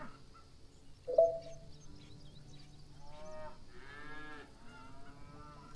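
Cattle mooing in the Farm Manager 2018 farm simulation game, with a brief sharp call followed by a longer drawn-out lowing, moderately distant and alone against a faint game ambience with light bird chirps.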